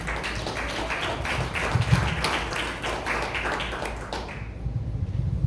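A church congregation claps together in steady, dense applause that holds for several seconds, then fades into quieter room noise near the end.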